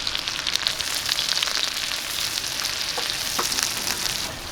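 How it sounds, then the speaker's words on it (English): Onions sautéing in a pan on a Skottle, giving a steady, close sizzle and crackle with light stirring scrapes throughout, no talking. "I'm gonna saute my onions first"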